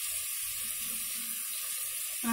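Water streams steadily into a cooking pot for wheat ravva biryani, a continuous close pour with faint sizzling beneath and a brief louder clatter at the end.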